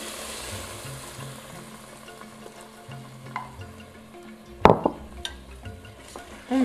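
A spoon stirs rice and beans in a pot as kitchari cooks, steady soft scraping and sizzling with a few louder knocks against the pot, close by and without talk.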